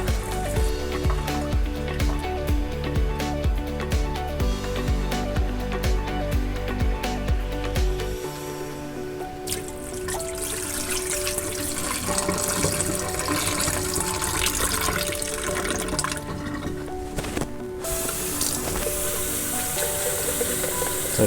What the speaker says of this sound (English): And we're gonna pour off the pulp.